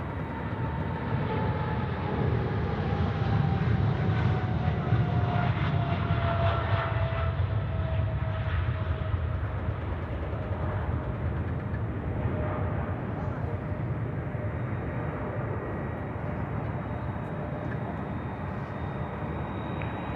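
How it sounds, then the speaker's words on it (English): A Singapore Airlines Boeing 777 rolls for takeoff at Sydney Airport, its engines a steady broadband roar that swells and then holds, with a faint rising whine threading through. "is this our Singapore 777 now rolling?"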